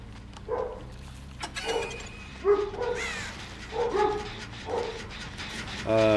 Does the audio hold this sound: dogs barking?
yes